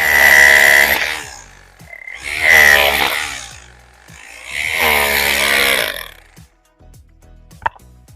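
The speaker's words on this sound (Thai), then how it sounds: "มาลองสกัดเสาปูนนะครับ" A Pumpkin H2-26 DFR rotary hammer chisels into a concrete post in three loud, near hammering bursts. Each burst is a rough, rapid rattle with short pauses between, followed by a couple of faint knocks.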